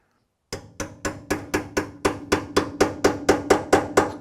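A hammer strikes a punch to tap brace tabs into place on a Ford Falcon, a dozen sharp metallic taps in a steady even rhythm, loud and close with no talking.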